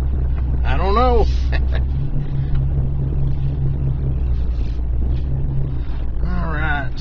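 An off-road vehicle in four-wheel drive crawls over rough wooded ground, its engine a loud, steady low rumble close by, with brief creaks and bumps and a person talking over it.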